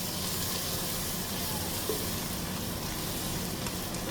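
Steady, loud sizzling of food frying in a hot pan, a continuous crackling hiss with no voices.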